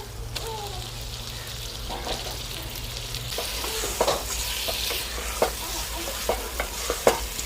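Chicken hits browned masala in a pot over a village wood fire, a moderate sizzle and bubbling with sharp crackles and stirring clatter growing more frequent toward the end.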